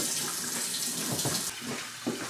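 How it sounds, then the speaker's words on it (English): Cold tap water runs over drained macaroni in a sink, a steady close splashing stream with small shifts as the flow hits the pasta, and no speech. "I'm going to run cold water on it so that I can cool it off"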